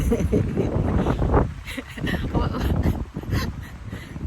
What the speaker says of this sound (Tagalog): Oh, paligid natin ngayon. Mahangin.